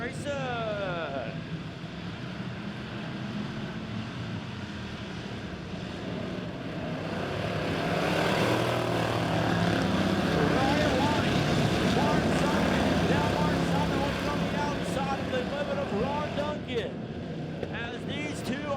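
Pure stock race cars roar around Lebanon Midway Speedway as a race starts, their engines a dense, droning rush that swells louder midway and then eases, heard under continuous excited commentary.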